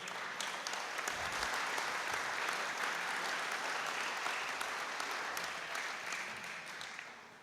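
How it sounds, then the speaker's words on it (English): A big round of applause for two women who cooked a meal in the kitchen at a veterans hall of fame induction dinner, a dense, steady clapping from a room of diners that holds throughout and tapers slightly at the end. "let's give a big round of applause to those who cooked that, two women in the kitchen"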